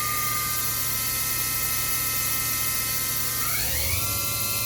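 A 2015 Hyundai Wia CNC machine spindle whines steadily at close range, its tone sliding upward as it speeds up and then holding at the higher pitch, with no voices.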